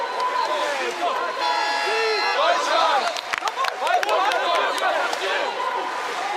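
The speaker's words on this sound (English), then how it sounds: "Crowd, well, they are lifting this French team" An indoor arena crowd cheers for the French team at a Paris 2024 men's wheelchair basketball game, a busy roar of shouts and chanting with sneaker squeaks and a sharp bang, under a commentator's voice.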